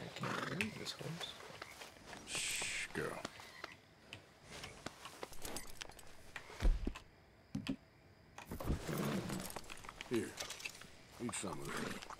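A horse in Red Dead Redemption 2, heard as intermittent hoof clops, snorts and tack jingles close by, with someone talking quietly over much of it.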